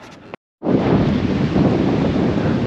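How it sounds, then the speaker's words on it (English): Strong wind roars continuously across the microphone on a cold day beside a lake near a college hiking trail in Amherst, Virginia, a loud, broad rushing noise after a brief moment of silence. "Boy, it's a cold, windy day."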